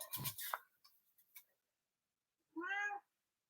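A cat gives a single clear, drawn-out meow right after being toweled off its muddy paws, heard alone following some brief rustling.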